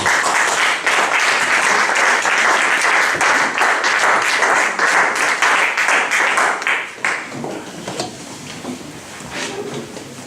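A congregation at a Sunday church service claps loudly and steadily for about seven seconds, then the applause thins out into scattered, fading claps.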